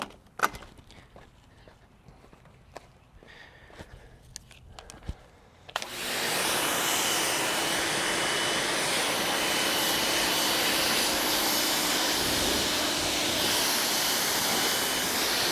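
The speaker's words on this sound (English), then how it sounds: "So let me rinse." A water hose rinses the fiberglass, gel-coated side of a 2021 Entegra Vision XL 34G RV. After a few quiet seconds of clicks and small knocks, a loud, steady rushing spray starts and continues without a break.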